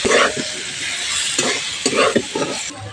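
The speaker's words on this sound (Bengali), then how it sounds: "খুব ভালো করে মশলাটা কষিয়ে নিতে হবে।" Spice paste stirred and sautéed in a pan with fried onions and potatoes, a steady close sizzle broken by scraping stirs, alone with no voices.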